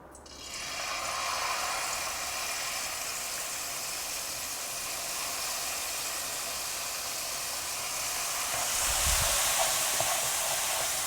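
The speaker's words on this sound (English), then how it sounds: "So my oil is hot. I'm just going to add a little bit of paste." Dried chili paste hitting hot oil in a pan: a broad steady hiss of sizzling starts sharply and holds, swelling slightly near the end with a faint clatter.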